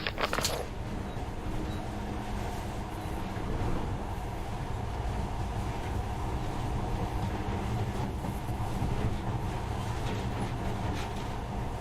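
A monorail train runs steadily in the video game Metro Last Light Redux, a continuous rumbling rail roll with clanking wagon noise after a sharp metallic hit at the start, sustained and fairly close with no voices.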